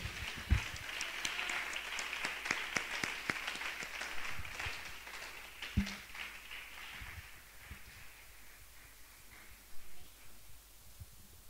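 A church congregation gives a burst of hand clapping that starts dense and energetic, then thins and fades over several seconds into scattered claps and quiet room noise.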